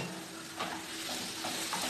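Onion, garlic and chicken breast filling frying in a pan, a steady close sizzle with a few soft stirring scrapes breaking through.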